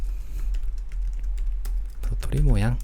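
Computer keyboard keys are tapped in quick, close clicks during a Photoshop exercise, ending with a brief spoken phrase over the typing.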